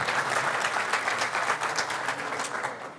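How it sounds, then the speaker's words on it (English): Sustained applause from an audience at a science talk, dense steady clapping from many hands filling the whole stretch, fading slightly at the end. "So I want to give everybody a round of applause for your participation."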